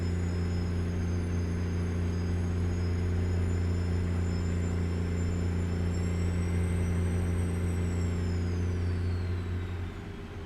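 Heavy Freightliner Argosy truck engine in American Truck Simulator hauling 78,000 pounds, a loud steady low diesel drone with strong harmonics and a faint whine on top, continuous throughout.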